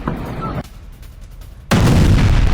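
An Iranian missile strikes in Israel and sets the area ablaze. A loud, heavy blast arrives close and sudden after a quieter stretch and then lingers as a sustained roar.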